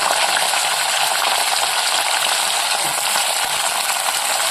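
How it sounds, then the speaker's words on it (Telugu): Chopped green chillies frying in hot oil, a dense, continuous bright sizzle with light crackling, close and steady with no voices. "పచ్చిమిర్చి ముక్కలు వేసేసి"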